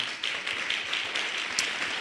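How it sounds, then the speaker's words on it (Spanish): A church congregation claps together in worship, a steady dense patter of many hands at moderate volume, slightly distant with room echo and no voices over it. "Dale un fuerte aplauso al Señor."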